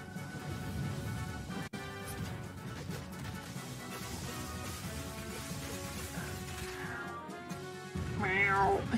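A cat meows clearly several times over a steady background hum, with the loudest, strained caterwaul-like cry near the end.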